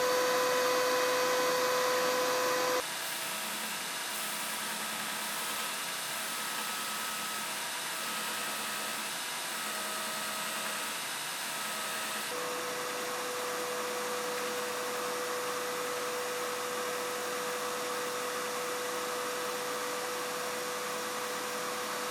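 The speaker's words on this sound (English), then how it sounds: "The closer I get the vacuum to it, you can see that the dust virtually disappears." A shop vacuum drones loudly and steadily near a 2x72 belt grinder, pulling in grinding dust with a broadband rushing roar that shifts slightly in pitch and texture partway through, with no talk.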